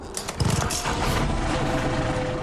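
A motor's exhaust hooked to a washing machine drain hose runs with a loud, rough, steady drone and rumbling low churn, alone with no talk over it.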